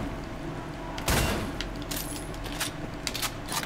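Gunshots ring out in the video game Wolfenstein: The New Order, a loud sharp crack followed by several lighter metallic clicks and clinks over a steady background hum.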